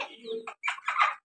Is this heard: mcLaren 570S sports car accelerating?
no